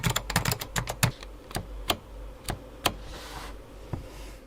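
Fingers type on a vintage Apple Extended Keyboard II, a quick burst of clacky keystrokes that slows into sparse, separate presses, close and crisp.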